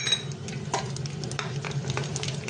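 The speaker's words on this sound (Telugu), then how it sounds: "ఆయిల్ వేడెక్కింది, పోపులు వేసుకోవాలి." Whole spices tempering in hot oil for a ice apple (palm fruit) curry crackle and sizzle steadily, with a few sharp pops and light utensil clinks from stirring, close by and with no talking.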